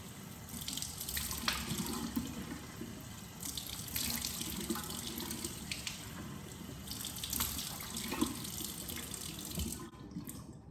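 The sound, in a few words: rinsing the face with water from a tap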